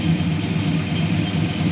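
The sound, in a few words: 1967 Plymouth Belvedere 360 V8 dual exhaust idling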